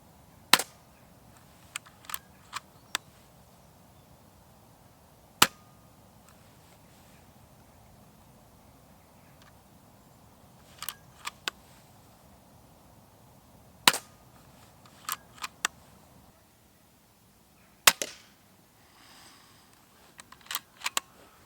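A Weihrauch HW 100 X .22 calibre air rifle fires a series of sharp, close cracks, some in quick pairs or triplets and others alone, separated by quiet outdoor pauses.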